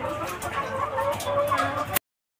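Hens cluck in a poultry farm shed, a dense overlapping flock chatter at moderate distance that runs continuously and stops abruptly.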